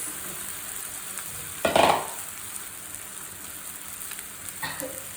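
Leftover idlis tossed into a hot pan of masala for street-style masala idli, giving a sudden loud sizzle burst that fades to a soft steady frying hiss, with a second smaller sizzle near the end and no talk.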